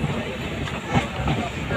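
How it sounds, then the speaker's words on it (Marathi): The Jamnagar Express crossing a river bridge on a trip from Vasai Road to Ratnagiri gives a steady, close rumble of wheels and carriages with faint rhythmic clatter and a brief louder thump, and muffled voices sit under it. "नदीच्या वरून आपली ट्रेन चालले एक्सप्रेस"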